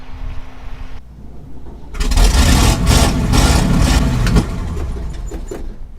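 An old Chevrolet engine, fed with gas squirted into the float bowl, catches and roars loudly after a second of quieter cranking, running rough and uneven close by with no talk.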